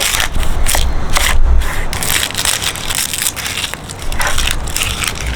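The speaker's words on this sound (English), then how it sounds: "I'm gonna show you guys how I like to dice an onion" Knife chopping a red onion on a cutting board, a rapid, steady run of crisp, crunchy cuts close up, with no voices.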